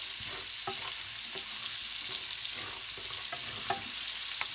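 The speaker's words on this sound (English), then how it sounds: "we're going to saute this a bit" Chopped onion sautéing in hot bacon grease for Southern-style kale, a steady close sizzle with occasional scraping stirs of a utensil against the pan, no voices.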